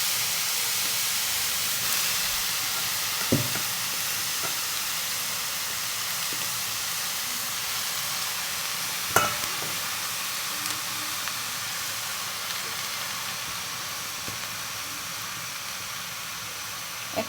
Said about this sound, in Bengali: এখানে হচ্ছে শাকটা আমি সেদ্ধ হতে দিচ্ছি।